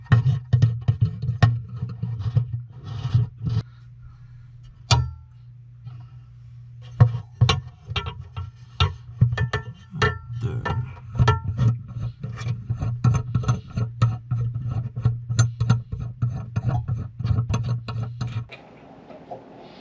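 Clamping work on the bridge plate of a Martin D guitar, with irregular close wooden clicks, taps and ratcheting knocks under a low steady hum, ending in a short quiet stretch.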